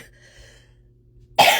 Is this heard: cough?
yes